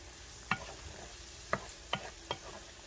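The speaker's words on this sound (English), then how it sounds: "You can even hear the temperature rising in the pan." Sauce simmers in a hot pan while being cooked down, a soft, steady sizzle broken by four or five sharp, separate pops and stirring clicks, fairly quiet and close.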